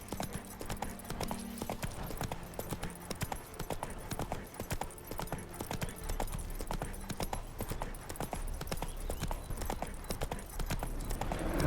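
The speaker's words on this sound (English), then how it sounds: "Spooking my horse." The horse Roach clip-clops steadily at a walk in The Witcher 3 video game, with a continuous faint rhythm of hoofbeats on hard ground.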